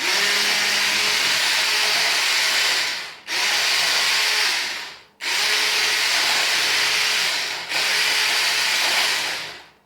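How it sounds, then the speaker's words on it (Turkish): Loud, harsh whirring of an electric mixer mixing cake batter, running in four long bursts, each cutting out briefly before starting again. "Şimdi çalıştırabilirsin mikserini."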